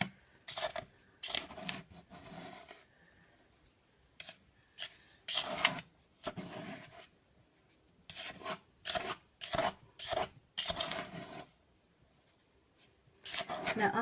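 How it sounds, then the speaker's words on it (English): A spoon stirs a thick milk-chocolate foaming bath milk mixture in a bowl, making intermittent scraping and rubbing strokes in uneven bursts with quiet pauses between them. "Now I'm just going to keep stirring until basically I scoop down to the bottom and no more white comes up."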